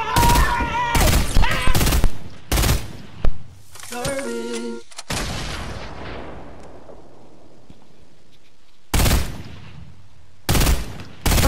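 Gunfire in the video game Fortnite during a solo squad match, a series of loud sharp shots in quick bursts, then a long decaying blast tail followed by more isolated shots.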